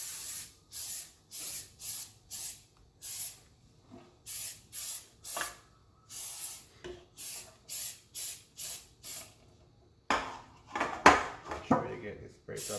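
Cooking spray greases a baking pan for a Jamaican cornmeal pudding: a long run of short, evenly spaced hissing bursts, close and fairly loud, followed by a rougher clattering stretch with some talk.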